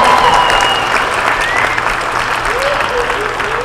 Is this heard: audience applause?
yes